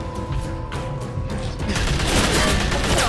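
Gunfire in The Walking Dead: A New Frontier video game, a dense exchange of shots building into a steady loud barrage over rumbling background noise.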